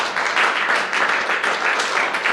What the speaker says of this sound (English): let's please give a round of applause for Debora.